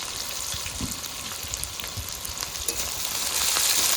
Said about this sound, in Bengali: নেড়ে চেড়ে একটু পেঁয়াজটাকে হালকা ভেজে নেব।